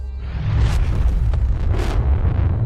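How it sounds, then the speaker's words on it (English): Animated weapons fire erupting into an explosion effect, a deep rumbling boom with sustained roar and two bursts of whooshing blast noise, loud and continuous without voices. "I will fire my weapons."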